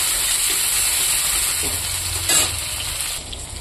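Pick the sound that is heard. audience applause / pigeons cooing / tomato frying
tomato frying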